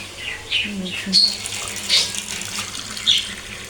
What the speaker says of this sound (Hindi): अब हम इसके अंदर डाल देते हैं 1 गिलास पानी